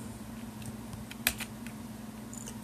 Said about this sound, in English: I'm going to hit the Windows key